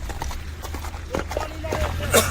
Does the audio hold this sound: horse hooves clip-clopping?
yes